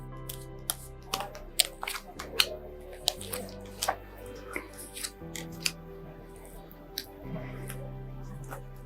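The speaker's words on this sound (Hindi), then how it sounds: "निकालते हैं 3 कार्ड्स।" Three tarot cards drawn from a deck during a weekly horoscope reading, heard as a series of close, sharp card snaps and slides in an irregular rhythm, with faint tonal background and little else.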